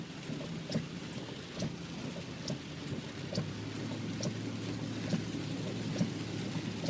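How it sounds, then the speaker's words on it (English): Steady rain falls outdoors, a dense continuous patter with scattered louder drips and a low rumble underneath, holding at an even level for the whole stretch with no voices. "Rain. I love the rain."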